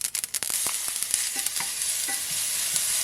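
Mustard seeds fry in a pan for a sorrel chutney, a steady close sizzle with quick crackling pops clustered at the start and scattered through.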